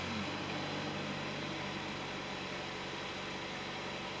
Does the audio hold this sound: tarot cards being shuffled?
no